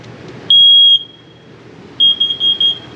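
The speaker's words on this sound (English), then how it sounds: "Right by the bedroom you get your smoke alarm." A smoke alarm in a 2015 Keystone Summerland travel trailer sounds a loud, steady high-pitched tone, pauses, then chirps in several shorter beeps close by. No one speaks.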